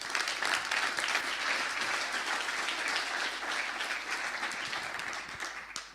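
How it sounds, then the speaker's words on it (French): An audience at a digital transformation conference gives sustained applause, a dense, even wash of many hands clapping for about six seconds that tapers slightly at the end. "je pense qu'on peut les applaudir"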